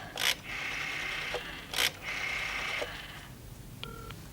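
A telephone number is dialed as a series of tones: two short clicks and two longer beeps, then a brief double tone at the end, close and clear with no talking.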